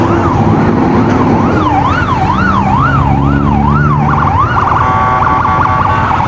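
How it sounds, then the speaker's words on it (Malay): An ambulance siren wails loudly nearby, its rising and falling tone switching to a faster yelp near the end, over steady traffic rumble. "Uish, ada ambulans pula."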